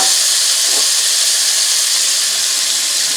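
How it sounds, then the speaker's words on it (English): Tomatoes sizzle in melted butter in a pan with a steady, loud broadband hiss that stays even for the whole stretch, close up, with no voices over it. "now there is our butter, so I'm going to go ahead and put in our tomatoes"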